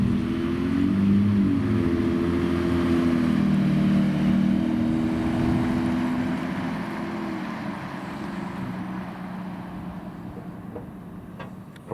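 A 2022 Ford F-150 Raptor in Code Orange Metallic drives off, its engine droning steadily with rising and falling tones as it pulls away, loud and close at first and easing slightly toward the end, with no talking.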